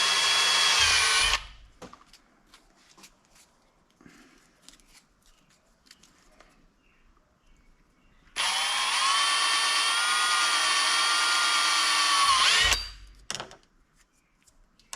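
A power drill whines at high speed while boring holes in a broken Bronco 6G Black Diamond handle piece. Two sustained bursts of several seconds each are separated by a long quiet gap with faint handling clicks.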